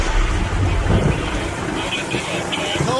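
Deep rumbling thunder during a severe thunderstorm, heavy low-end booms rolling through the first second and then a sustained growl, mixed with wind buffeting the microphone.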